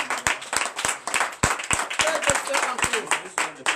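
A church congregation at a Sunday worship service claps in a rhythmic, irregular pattern of sharp hand strikes, with voices and a faint tonal sound mixed in beneath the clapping.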